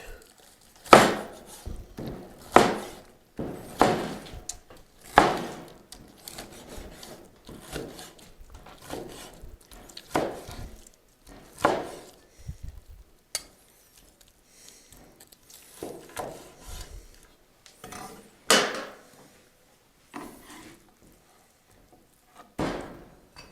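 A knife slices cooked St. Louis style pork ribs on a board, producing sparse, irregular thuds and chops separated by quiet pauses, close and moderately loud.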